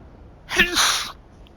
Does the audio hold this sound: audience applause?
no